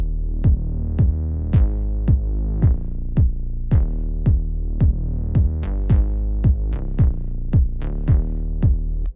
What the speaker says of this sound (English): So if you play the kick and the bass, it sounds like this.